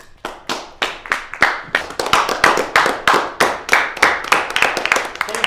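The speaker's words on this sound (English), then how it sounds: "I haven't gotten applause like this in a long time" An audience claps for a media company president being introduced. The claps are sharp and distinct, close and loud, and the rhythm builds into a steady pulsing round of clapping.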